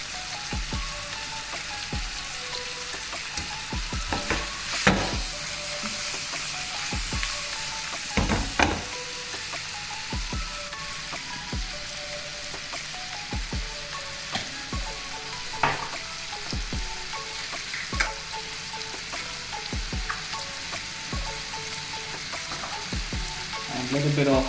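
Prawns fry in butter and garlic over a high flame, sizzling steadily while a spatula stirs and taps the pan in scattered sharp strokes.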